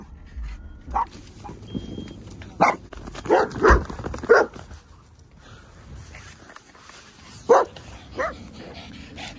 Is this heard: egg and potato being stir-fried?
no